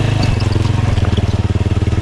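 Motorcycle engine labouring out on a rocky uphill trail in San Miguel, Sto. Tomas, Batangas, a loud close low pulsing drone that deepens into a steady throbbing chug as the bike climbs, with no talk.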